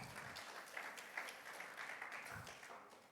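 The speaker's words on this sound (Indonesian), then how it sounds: "Berikan tepuk tangan." Congregation clapping during a Sunday church service, a faint, distant patter of many hands carried on steadily with a low murmur underneath.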